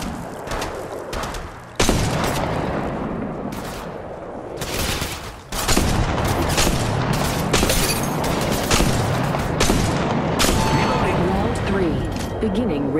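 Heavy gunfire in the mobile battle royale game Apex Legends Mobile, with rapid automatic bursts, single shots and booms crowding one another, loud and continuous, with a voice speaking over the shooting.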